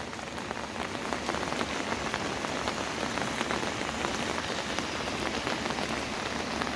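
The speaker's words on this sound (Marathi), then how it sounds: "हे पहा इकडे देखील किती पाऊस पडतोय" Heavy monsoon rain pours steadily on surfaces beside a flooded river, a dense, unbroken hiss close by with no voices.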